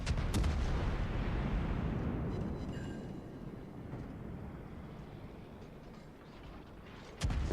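Naval gunfire from a Cleveland cruiser in World of Warships: a continuous heavy rumble of booming cannon, with a sharp new blast at the very end.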